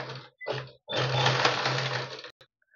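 Sewing machine stitching a cross strip onto a blouse, running in two short bursts and then one longer steady run of close, loud mechanical hum before stopping.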